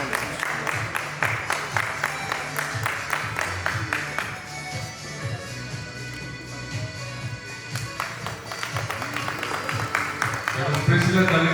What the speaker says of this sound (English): A big amount of applause for Reverend Dr. Rajeshwar Solomon Garu.